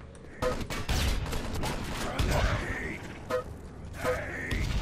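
Rapid assault rifle bursts and grenade blasts from a competitive 6v6 first-person shooter match, dense overlapping gunfire with sharp cracks and a few booming explosions, mechanical clatter in between.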